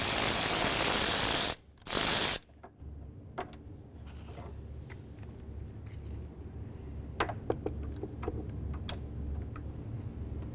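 A ratchet wrench clicks steadily while loosening the 10mm radiator bolts on a 2006-2010 Ford Explorer, close up, after a short loud burst of noise at the start.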